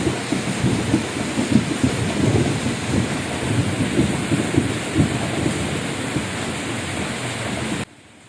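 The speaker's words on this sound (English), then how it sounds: "Listen to that thunder sound." Thunder rumbles loudly through a steady downpour during a rainy-season storm, a sustained heavy roll with repeated surges that lasts nearly the whole stretch before cutting off abruptly.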